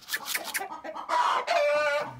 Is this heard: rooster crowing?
yes